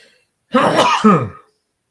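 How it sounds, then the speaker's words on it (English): A single sharp, explosive sneeze from one person lasting about a second, close and loud against near silence. "I'm going to sneeze."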